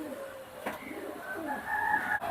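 High-flying pigeons coo softly in a few low, rounded calls over a faint steady background, with no voices present.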